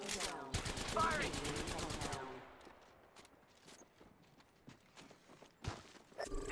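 Gunfire in the battle-royale video game Apex Legends: a loud rapid automatic burst at the start, then scattered fainter shots, clicks and footsteps.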